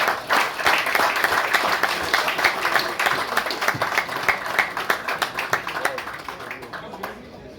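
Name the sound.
audience applause for snooker player Ami Kamani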